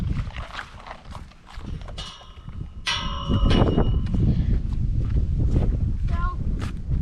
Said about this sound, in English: And then we got our big quarter horse over there.